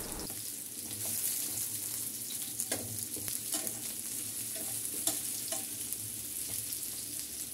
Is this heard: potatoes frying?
yes